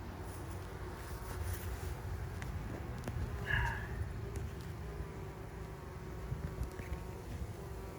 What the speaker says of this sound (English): There you see a bee with pollen on her back legs.